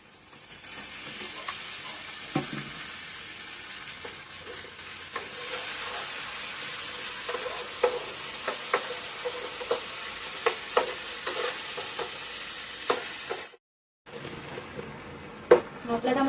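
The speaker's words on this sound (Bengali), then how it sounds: "যতক্ষণ না মশলা থেকে তেল ছেড়ে যাচ্ছে ততক্ষণ আমি কষিয়ে যাবো" Spice masala sizzles in hot oil while being stirred for a soybean curry, giving a steady frying hiss with scattered scraping clicks, a short break and then more sizzling.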